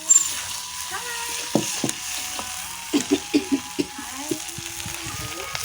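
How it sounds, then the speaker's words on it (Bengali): Chicken pieces frying in a pan with steady sizzling and crackle, interrupted by scraping knocks of a utensil stirring, close up with a person talking. "এখন চিকেনটা ভাজা হচ্ছে"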